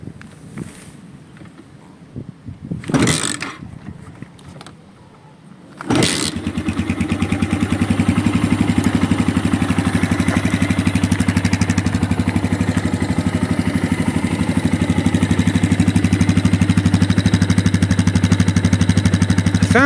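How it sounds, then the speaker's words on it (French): A Kymco Striker motorcycle, a budget trail bike, is kick-started: a few sharp kick strokes and a short attempt, then the engine catches around six seconds in and settles into a loud, steady, close idle that runs on alone. "Pour le fun, on va la démarrer au kick."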